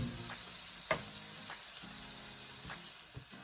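Garlic and ginger frying in a pan with fenugreek give off a soft, steady sizzle, broken by a few light stirring taps and scrapes.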